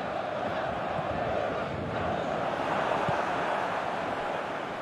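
Stadium crowd in the PES 2019 football video game, a steady loud roar of cheering fans that holds evenly throughout, broad and dense like a packed arena.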